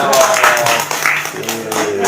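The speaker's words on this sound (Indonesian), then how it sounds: "Tepuk tangan dong." Audience members clap at a religious gathering, uneven bursts of hand claps up close, mixed with voices talking over them.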